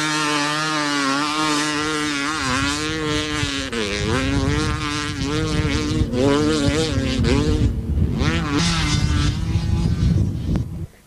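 An enduro motorcycle at the 1994 Powys Enduro races through a special test, its engine revving hard and continuously with rising and falling pitch as it shifts and accelerates, loud and close throughout.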